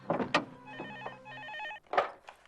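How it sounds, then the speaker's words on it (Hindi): A classic telephone bell rings in a home, its rapid warbling trill heard in two bursts, fairly faint and partly masked by louder thumps and voices around it. "फोन बज रहा है, जरूर प्रगति का होगा"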